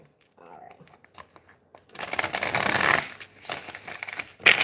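A deck of tarot cards being shuffled by hand, with a few light isolated taps first, then a close run of papery riffling and flicking bursts, faint speech-like sounds mixed in.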